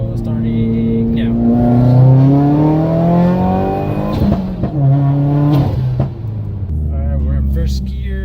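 A 2018 Subaru WRX pulls hard from about 30 mph in a roll run, the engine droning loud and rising steadily in pitch, heard from inside the car with people talking over it.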